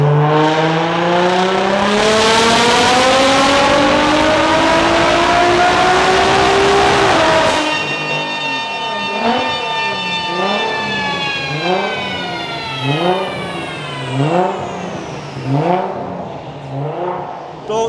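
A tuned 1000 bhp VW Golf R engine revs hard and climbs in pitch, then drops to a rough idle punctuated by a series of sharp, repeated throttle blips.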